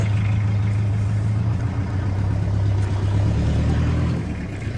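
A loud, rough engine rumbles steadily through a broken exhaust pipe with a harsh, raspy drone, close and continuous, easing off slightly at the end.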